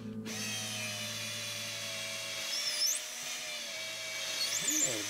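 Power drill boring a screw hole in wood for a small totem stand, a steady high-pitched whine running throughout with slight pitch shifts, close and fairly quiet, with faint background voices.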